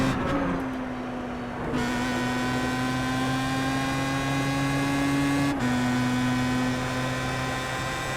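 A Star Mazda race car engine in the iRacing sim on the Laguna Seca circuit drones with a steady, close, loud tone, its pitch dropping abruptly a few times as gears change on downshifts.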